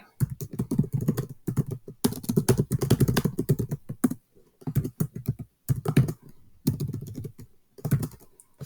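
Close bursts of rapid clicking keystrokes on a computer keyboard come in uneven runs separated by short pauses, with no talk.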